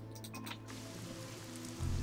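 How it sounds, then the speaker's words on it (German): Rain falls in the video game Risen 2: Dark Waters, a steady even hiss of patter laid under a low droning game ambience that swells near the end, with no voices. "Oh nee, es regnet."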